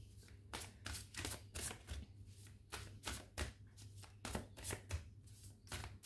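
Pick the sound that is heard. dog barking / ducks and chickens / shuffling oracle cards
shuffling oracle cards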